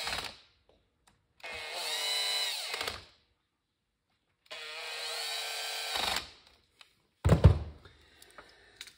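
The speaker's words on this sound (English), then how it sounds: "Grab your screw gun and zap them back in." A screw gun driving screws back into a 42 mm Mikuni carburetor from a junior dragster, two loud whirring bursts of a couple of seconds each separated by silence, followed by a sharp clunk and a few small clicks.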